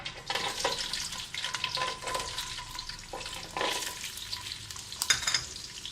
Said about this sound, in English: As soon as you heat some oil in the pan, first thing is add some ginger